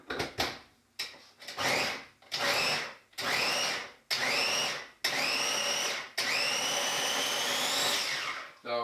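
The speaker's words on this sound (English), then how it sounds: "Now I pulse these up in the same food processor." A food processor pulses a white onion in a run of short bursts, about eight loud whirring spurts, with the last press held longer, heard close and alone.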